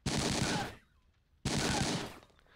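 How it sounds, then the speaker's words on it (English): Two long bursts of rapid automatic gunfire in the World War II tactics video game Silent Storm, loud and dense, each lasting under a second and separated by a short quiet gap. "someone shot at someone"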